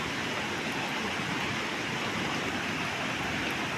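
A flooded river rushes in heavy rain, a dense, constant roar of churning water filling the foreground without pause.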